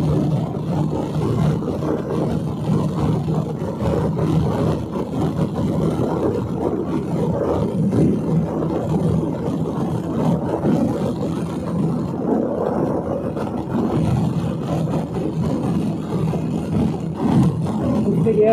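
A Bajaj Dominar 250 BS6 motorcycle accelerating hard in fourth gear during a top-speed run, its engine roaring loud and steady in a continuous drone mixed with wind rush.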